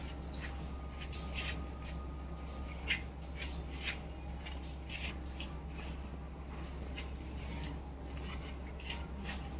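River fish being mixed by hand with rice flour, masala and turmeric give a soft, continuous rasping and rubbing with small irregular scrapes, close and quiet, with no talk.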